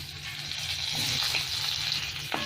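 Whole dried chillies and two bay leaves sizzle steadily in hot ghee, a continuous close frying hiss with faint stirring clicks, and no voices.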